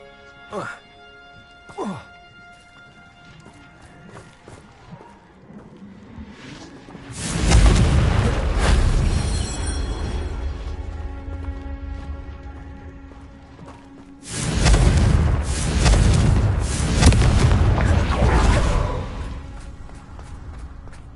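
Confringo explosion spell cast in Hogwarts Legacy, game audio: after quiet ambience with brief chimes, two heavy booming blasts with rumbling, crackling tails follow several seconds apart, loud and close.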